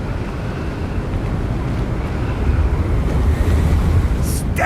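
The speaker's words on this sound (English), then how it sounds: "Also very windy." Strong coastal wind roars over crashing surf in a Hogwarts Legacy game scene, a loud, continuous blustery rush that swells slightly louder toward the end.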